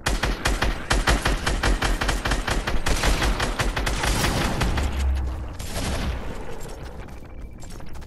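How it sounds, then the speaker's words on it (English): Rapid bursts of automatic gunfire in the video game Fortnite, loud and dense with repeated volleys throughout, a heavy boom near the middle, with no talk over it. "I'm gonna have to shoot you."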